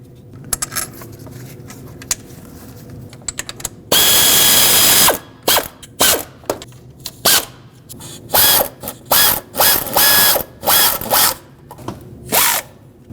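A ratchet tightens water pump bolts on a 2006-2015 Lexus IS250 in short, loud clicking bursts with brief pauses between them, after one longer stretch of steady ratcheting, under a quiet background.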